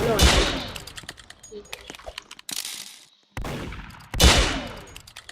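Gunfire in a shooting video game: close, loud bursts of rapid shots with sharp cracks and trailing echoes, broken by short near-silent gaps.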